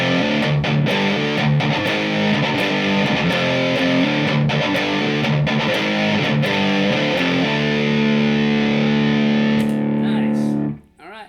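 An electric guitar plays through a Laney IRT15 amp with its boost turned way up, giving thick distorted chords and sustained notes, loud and close, ending in an abrupt cut to silence.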